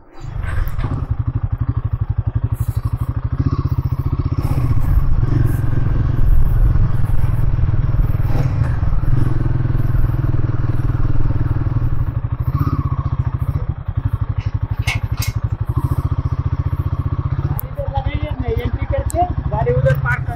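A motorcycle engine rumbles steadily close by as it is ridden and brought in to park, with people talking over the continuous low engine drone.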